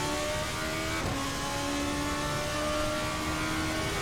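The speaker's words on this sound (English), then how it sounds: "Naturally aspirated V8 engine. Very impressive performance." A GP2 race car's naturally aspirated V8 in Assetto Corsa howls at steady high revs, with a brief dip and shift near the second before the engine pulls on loud and continuous, with no voices.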